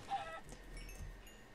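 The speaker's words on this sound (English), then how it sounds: "Oh, chicken. Yeah, let's get the chickens." Chickens in a village-building video game cluck faintly and briefly, a few soft game-audio calls set against a quiet background.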